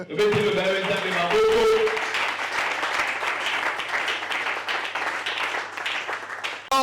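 A church congregation claps and applauds to acclaim the Lord: a few sung or spoken notes at first, then dense, steady applause from many hands filling the room for several seconds.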